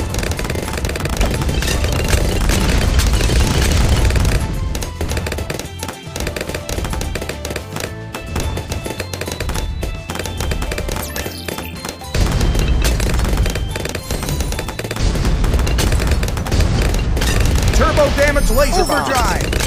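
Laser bomb explosions from Bloons TD 6 pop and crash in a rapid, relentless barrage of taps and booms, loud and nearly continuous, with a voice speaking over part of it.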